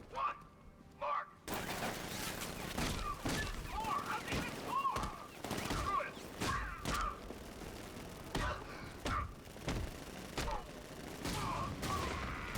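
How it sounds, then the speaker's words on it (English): Sentry guns firing in a Batman Arkham game, a long run of loud repeated bursts and impacts at an uneven rhythm, mixed with grunts and game sounds. "Activate sentry guns on my mark."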